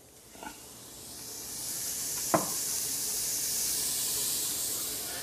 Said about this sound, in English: sauteing our onions and garlic